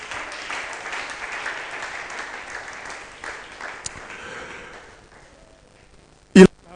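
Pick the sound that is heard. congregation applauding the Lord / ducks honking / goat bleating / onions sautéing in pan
congregation applauding the Lord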